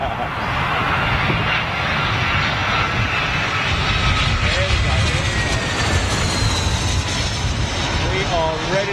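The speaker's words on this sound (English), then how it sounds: "We are ready to rock and roll with that Singapore 747 freighter." A Singapore Boeing 747 freighter's jet engines at windy Heathrow, a loud, steady roar with a whining tone throughout, with a voice talking over it.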